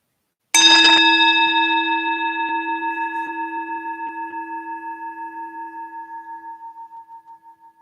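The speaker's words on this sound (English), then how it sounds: "When you hear the next bell, use this bell to draw a few deep breaths in" A single meditation bell is struck once and rings out clearly on its own, its sustained tone slowly fading and gently beating over several seconds in a quiet room.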